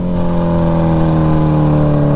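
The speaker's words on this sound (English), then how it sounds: "I forgot how loud this freaking bike is, dude." A Kawasaki Ninja H2 motorcycle engine roars loudly and steadily at high revs, a close, sustained and dense mechanical drone with no talking.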